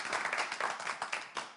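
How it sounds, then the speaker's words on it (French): Applause and clapping sound from a studio audience on a French game show, a dense, fairly quiet patter of many hands that swells and pulses for a moment, with no voices over it. "Allez, applaudissements."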